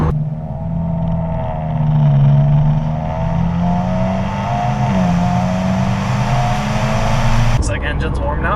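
A Subaru WRX engine runs with a close, steady drone that rises and falls gently in pitch, settling before an abrupt change near the end.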